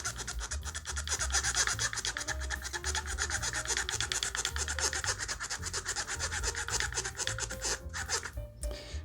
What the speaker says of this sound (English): Give it a good scrub.